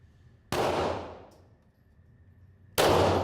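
Two loud handgun shots at an indoor shooting range, about two seconds apart, each a sharp close crack with a decaying ring.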